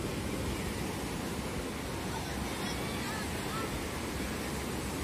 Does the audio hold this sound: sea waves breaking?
yes